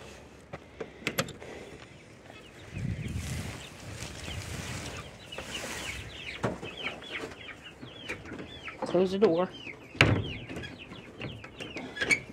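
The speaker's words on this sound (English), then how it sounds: "I'm out here with the chickens." Chickens cluck and chatter inside their coop, a busy cluster of short calls spread across the clip, with some rustling and knocks and a brief spoken phrase partway through.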